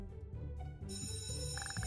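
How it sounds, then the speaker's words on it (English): A school bell rings in the video game Kindergarten, a steady electric ring that starts partway through and sustains to the end, with no talk over it. "That's the bell."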